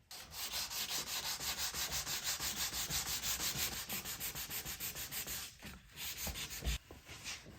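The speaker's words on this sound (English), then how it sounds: "This stuff dries pretty fast, so I can sand small repairs within like 10 minutes." Walnut plastic wood filler on a dresser being hand sanded, a steady back-and-forth rasping in close, even strokes, loud and continuous with a brief pause near the end.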